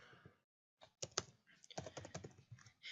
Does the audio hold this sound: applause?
no